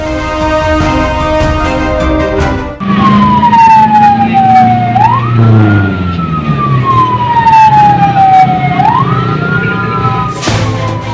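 A fire engine siren wails loudly and close by in a rising and falling sweep while the truck's engine rumbles underneath, on a call to a burning box truck outside a minimarket in Magelang, Central Java.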